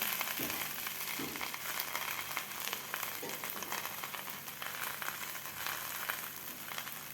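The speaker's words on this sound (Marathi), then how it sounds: "तवा आपला तापलेला आहे तर यावर आपण थोडंसं तूप लावून घेऊया त्यानंतर आपण यावर पराठा घालून घेऊया" Spinach paratha frying in ghee on a hot tava: a soft, steady sizzle with a faint crackle, quiet and close, with no voices over it.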